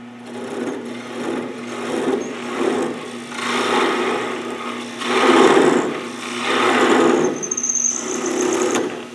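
A wooden bowl spins on a lathe while the nub is cut off, producing a constant motor hum under repeated rasping bursts of cutting, with a high squeal near the end.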